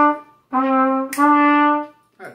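Trumpet with a slightly sticking middle valve plays a short phrase of four notes at a beginner lesson: brief first note, two longer sustained tones with a small break, and a short final note, close, bright and fairly loud, alone.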